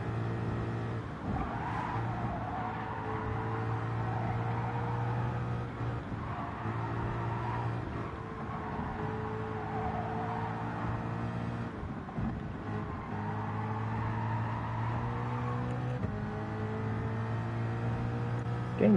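Rotary-engine race car lapping in a racing video game on the Tokyo Expressway, a steady buzzing engine drone with rising and falling revs through shifts and corners, with occasional tire scrub, no talk over it.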